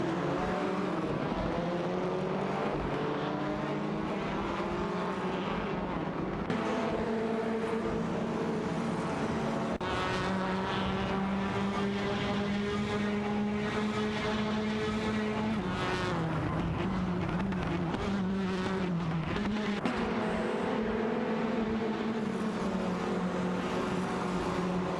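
Race cars in an AI racing video game, a Honda Civic FA and an Audi RS3 TCR among them, roar with continuous revving engines, pitch climbing and dropping through gear changes, with occasional tire squeal and cars sweeping past.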